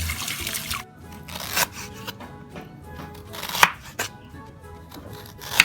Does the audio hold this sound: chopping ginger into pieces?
yes